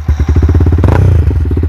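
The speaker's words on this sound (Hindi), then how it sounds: "बाइक को स्टार्ट करके आप लोगों को आवाज सुनाता हूँ इस वाले एक्रापोविक साइलेंसर का कैसा साउंड है" A Yamaha MT-15 motorcycle with an aftermarket Akrapovic full-system exhaust fires up with a deep, loud, throbbing burble, a quick crackling surge in the middle before it settles into a rapid low idle.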